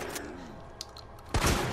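Handgun shots in the Resident Evil 2 remake, a loud close blast near the end following quieter game ambience and a few faint clicks.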